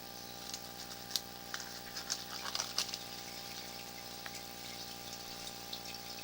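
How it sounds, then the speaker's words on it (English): Flush water rushes through a sewer line past an inspection camera, a faint steady flow with scattered drips and splashes over a constant machine hum. "there's the flush moving past the camera"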